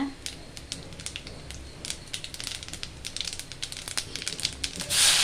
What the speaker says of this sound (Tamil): மிளகு சீரகம் ரெண்டுத்தையும் போட்டுட்டேன் ரொம்ப பொரிய விட்டுறாதீங்க